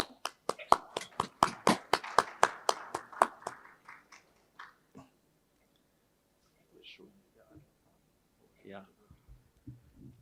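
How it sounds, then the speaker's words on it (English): Audience applause at the Jamaica Stock Exchange conference in 2022: brisk, evenly spaced claps ring out close and clear for about four seconds, then fade away into near silence broken by a few faint murmurs and small movements. "Let's give him a round of applause."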